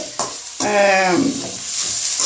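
Broad beans (avarakkai) sauté in hot oil for a Tamil poriyal, giving a steady close sizzle and hiss throughout, with a brief voice-like tone rising over it partway through.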